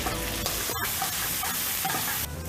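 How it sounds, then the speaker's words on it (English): Garlic, red chili and Thai basil stir-fry in a hot pan, a loud continuous sizzle with scraping stir strokes and a sharp clank near the start, steady throughout. "So need to stir it until the smell come out, the garlic smell and then the red chili smell."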